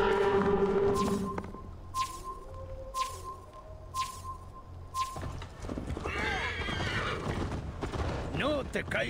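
A horse in the video game Assassin's Creed Valhalla gives a loud whinny, followed by rhythmic clip-clop hooves with game music and characters talking over the hoofbeats.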